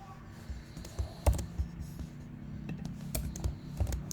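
Python code being typed on a computer keyboard, with irregular bursts of fairly quiet key clicks and occasional heavier taps on a steady low room hum.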